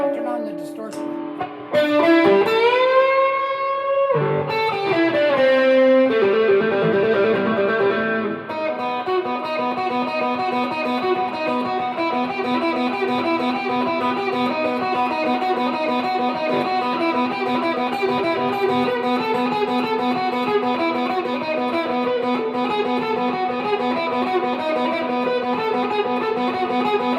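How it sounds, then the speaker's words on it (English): An electric guitar solo runs through Blues Driver and distortion pedals: quick bent notes and sliding phrases open the passage, then sustained, overdriven chords ring on steadily for a long stretch. "I click on the Blues Driver, and if I don't feel like I'm getting enough out of that, I turn on the distortion"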